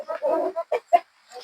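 Chickens inside a hen house on a rainy day give a few short, close clucks in quick succession, with brief pauses between them.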